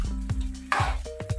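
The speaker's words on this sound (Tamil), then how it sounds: "கிளறி விட்டுக்கலாம்." A spoon stirs crab gravy with pepper in a pan. There are a few short scraping strokes over a soft sizzle, close and moderately loud.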